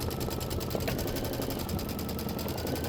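An embroidery machine sews an outline stitch, a steady rapid mechanical whirring and clatter running continuously and close, with no talk.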